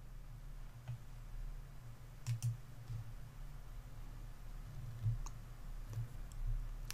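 Computer mouse clicking while working in an Excel spreadsheet, with a few sparse, faint clicks spaced irregularly over low background hum.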